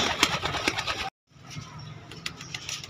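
Pigeons at a bird market coo in soft repeated calls, close and moderately loud, with a brief silent gap midway before the cooing and market background resume.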